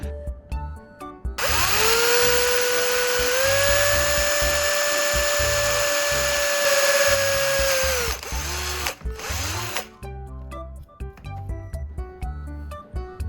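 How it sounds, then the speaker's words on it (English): A power drill bores through marked spots on a saw blade, whining steadily for several seconds as it rises in pitch and holds, then stops; later short tool clicks and handling noises follow, with no talking. "All right, time to drill all the spots I marked earlier."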